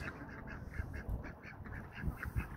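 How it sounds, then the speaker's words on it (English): Ducks quacking in a barnyard, a faint cluster of repeated quacks and honks from several birds at moderate distance, with soft rustling background and no talk. "there go the ducks."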